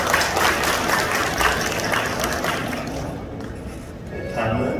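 Guests at a wedding ceremony in a wedding hall applaud, producing a dense burst of crowd clapping that gradually thins and fades, with voices audible underneath and a quieter pause near the end.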